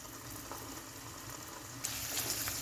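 Chicken for tantuni frying in oil in a pan, a steady close sizzle that grows brighter and louder for its last second, with no talking.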